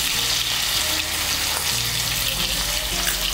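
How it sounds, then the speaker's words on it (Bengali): Boiled potato pieces fry in hot oil with a steady, dense sizzle that stays close and loud throughout, with faint low bubbling underneath. "এর মধ্যে আলুগুলো ভেজে নেব।"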